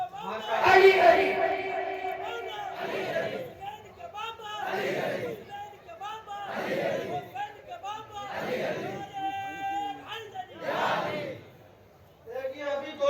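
A crowd at a naat gathering shouts religious chants (naara) in rhythmic call-and-response waves, several loud collective bursts evenly spaced, with a leader's voice calling out between them.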